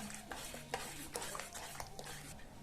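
A thick, reducing doda barfi mixture is stirred in a pan, producing quiet scraping strokes and intermittent clinks of spoon against metal in an irregular rhythm, with a faint sizzle underneath.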